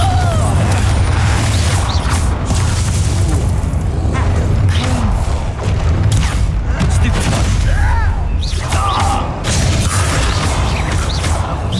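Hogwarts Legacy duel combat with Confringo fire spell blasts, a loud, unbroken wash of booms, crashes and magical whooshes layered with other spell effects and faint voices.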